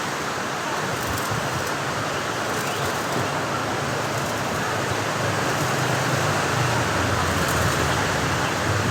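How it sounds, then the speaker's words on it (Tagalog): Heavy rain pours down during a super typhoon, a dense, unbroken roar of hiss and spatter that stays loud and even throughout with no talk over it. "Sobrang lakas na ng ulan."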